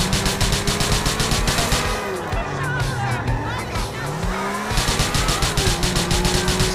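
A fast car tears through a chase in Grand Theft Auto 4, engine roaring loud and steady with tires squealing and skidding mid-way, gunfire-chaos feel under a busy game mix.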